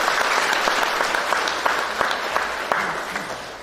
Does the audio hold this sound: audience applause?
yes